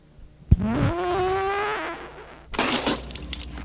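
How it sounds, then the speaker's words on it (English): A loud, drawn-out, tonal fart close by in a comedy scene, starting with a sharp pop and holding a buzzing pitch, followed by a brief noisy rustle; no speech. "Geez, you fart too?"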